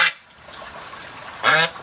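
Two short, loud, nasal calls from permaculture ducks and geese, one at the very start and another a moment later, sound close to the microphone against quiet outdoor background.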